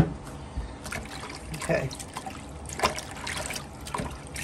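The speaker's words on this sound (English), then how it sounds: "Some good old apple cider vinegar to cleanse it." Apple cider vinegar and water poured over greens in a kitchen, an intermittent trickling and splashing with several louder bursts, close by, while a person speaks briefly.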